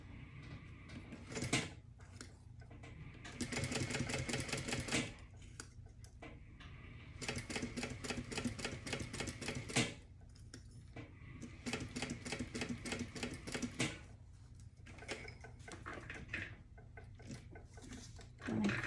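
A sewing machine stitches a convertible tote bag 1/8 inch from the edge in several bursts of rapid mechanical clatter, each a few seconds long, separated by short pauses and faint handling sounds.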